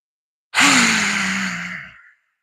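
One long, deep breath during a chair yoga session is heard up close: a breathy rush that starts suddenly and fades over about a second and a half, alone in otherwise silent surroundings.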